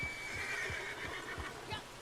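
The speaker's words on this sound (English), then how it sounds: "Why is there a saddled horse here?" A saddled horse in the wilderness of the video game Red Dead Redemption Online gives a faint, high whinny at the start, with soft hoof thuds pacing underneath throughout.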